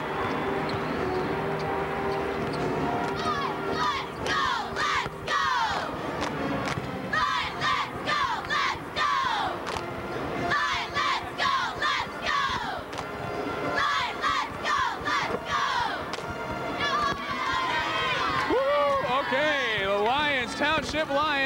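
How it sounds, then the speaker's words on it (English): Lyons Township basketball fans cheer at halftime of a high school semifinal in an arena, chanting in a loud, rhythmic crowd. Shouted phrases repeat and reverberate, and a mass of voices keeps up a steady roar. "You going to do a little cheer for us?"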